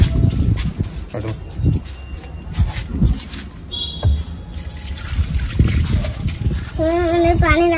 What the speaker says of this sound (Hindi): मैं पौधे में पानी डाल रही हूं।